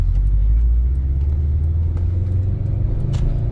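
A 2014 Subaru Impreza WRX STI with 78,474 miles and a replaced short block drives along on a test drive, its engine and road noise forming a steady, loud low rumble with no talk.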